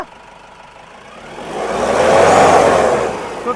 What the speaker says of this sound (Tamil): ரேஸ் பண்ணுப்பா ஆயில் புகை எதுவுமே தெரியல ரேஸ் பண்ணு